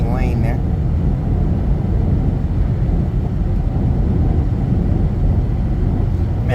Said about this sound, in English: I'm in my Mustang.